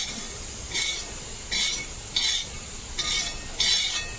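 Grated coconut roasting in a pan over low gas, stirred in five regular scraping strokes over a steady soft hiss, close by and fairly loud, with no talking.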